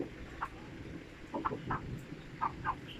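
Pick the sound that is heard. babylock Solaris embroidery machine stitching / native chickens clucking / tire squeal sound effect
native chickens clucking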